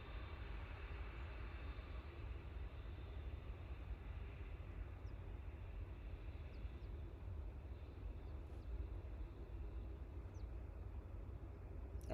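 An airliner taxis at Los Angeles airport, heard as a steady, distant jet engine rumble and hiss that holds constant and unbroken, with no voices.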